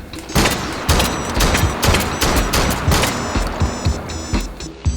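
Rapid, loud semi-automatic gunshots from a seven-round pistol in the VR shooting game H3VR, about a dozen sharp bangs fired in quick succession with short gaps, close and punchy.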